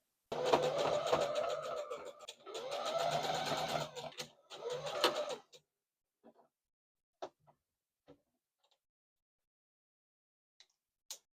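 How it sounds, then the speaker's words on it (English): A sewing machine runs a zigzag stitch over the end of a garment fabric sample in three close, steady bursts of whirring stitching, followed by a few faint clicks and handling sounds. "I'm going to do a zigzag stitch over the end because I don't have a serger"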